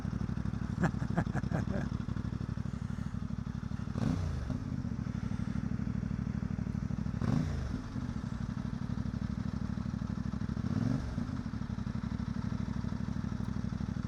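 A CF Moto 450MT motorcycle engine runs steadily nearby with an even low drone, broken by three brief rising surges as the throttle is blipped; voices are faint underneath.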